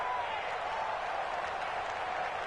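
Loud, steady roar of a home stadium crowd at an American football game, a dense continuous wash of cheering and noise with no breaks.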